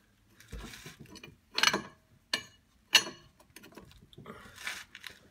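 A wrench and 24 mm socket work a large nut on a car's front air suspension; a few sharp metallic clicks and rattling bursts stand out between quieter scraping handling noises, close by, with no talk.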